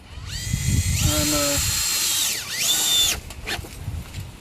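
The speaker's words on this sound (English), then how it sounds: "I'm drilling wooden stakes into each of the 2x4s so it doesn't move" A power drill whirs loudly in bursts, driving wooden stakes into 2x4s for a raised garden bed, its pitch rising and falling as it bites into wood, with brief pauses between runs.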